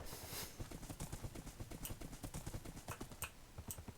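Horse hooves clip-clop in the video game Dark Times, a quick, even trotting rhythm of close, crisp hoofbeats that runs steadily from start to finish.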